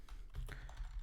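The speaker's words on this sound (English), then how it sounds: "I would type in Roman soldier" Computer keyboard typing, a quick cluster of soft key clicks, faint and close, about a second long.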